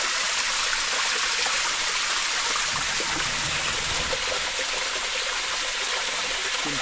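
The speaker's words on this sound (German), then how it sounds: "Hier steige ich gerade einen Wasserfall hinunter. Ein unterirdischer Wasserfall" Steady broadband rush of water from an underground waterfall inside a cave, a continuous close splashing and trickling wash with no voices.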